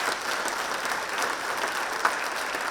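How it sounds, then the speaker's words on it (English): Audience applause fills a county government State of the County address, a steady wash of many hands clapping at moderate volume throughout, with no voices over it. "she deserves excellent applause"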